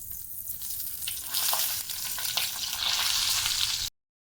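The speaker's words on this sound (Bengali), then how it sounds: "এই তেলের মধ্যে আমি বেগুন ভেজে নেবো" Eggplant pieces fry in mustard oil with a steady close sizzle that swells louder partway through, dotted with brief crackles, then cuts off abruptly.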